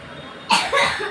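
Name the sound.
cough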